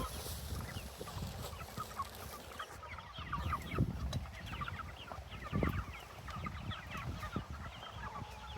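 Several meat chickens cluck and chatter at once on a small farm, a busy overlapping flock sound with scattered louder calls, no talking.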